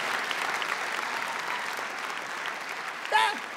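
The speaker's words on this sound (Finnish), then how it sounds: "Annetaan kaikille, jotka oli tässä mukana, kunnon aplodit." A comedy show audience gives hearty applause for everyone involved, a full, steady roar of clapping from a large crowd that holds evenly before a brief voice cuts in near the end.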